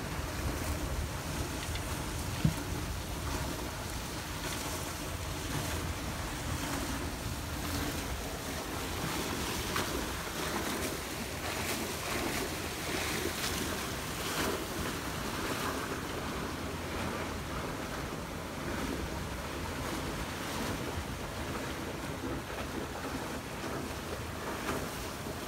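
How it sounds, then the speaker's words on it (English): Water rushes past the hull of a Catalina 470 sailboat under jib in about a 12 knot west-northwest wind on Buzzards Bay, a continuous broadband wash with wind noise, steady and close throughout. "That water's flying by."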